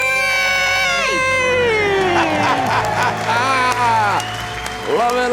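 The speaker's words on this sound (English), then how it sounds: "Let's hear a debt-free scream." A couple shouts a loud, sustained celebratory scream after paying off their debt, voices rising and falling together close to the microphone, with cheering and crowd noise around them.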